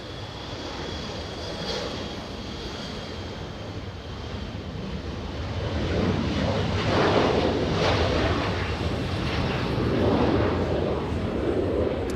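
An Embraer E-175 regional jet takes off at LAX, its engine roar building from a distant rumble to a louder, wind-like rush, heard without talking.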